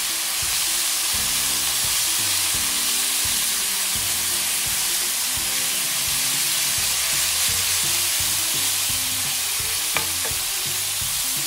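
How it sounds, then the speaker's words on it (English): Frozen peppers sizzle in a pan alongside steak, a steady, close broadband frying hiss that runs unbroken, with a brief clink of a utensil near the end. "I'm gonna go ahead and put them in to cook with the steak right now"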